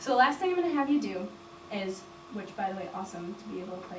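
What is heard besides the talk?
No distinct noise like a dog, phone or traffic.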